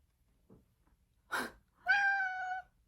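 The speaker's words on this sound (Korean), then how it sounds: "우리 고양이가 왔다." A brief breathy snort, then a single drawn-out cat meow, close and clear in a quiet room.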